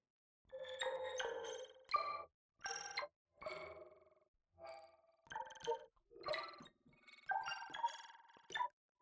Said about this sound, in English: Here's chimes down here.